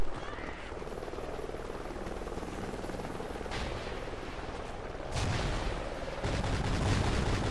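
A helicopter in the Call of Duty: Ghosts multiplayer game thrums continuously with a dense rotor roar, joined by bursts of gunfire and booming impacts that grow louder toward the end.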